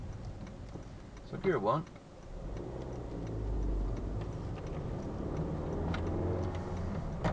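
A car's left indicator ticks steadily under a brief spoken remark, a soft regular clicking inside the cabin alongside low engine hum as the car pulls away.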